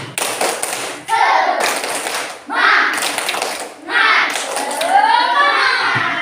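A classroom of children performs the rhythmic tepuk semangat group clapping chant, bursts of clapping alternating with chanted voices in several phrases, close and lively.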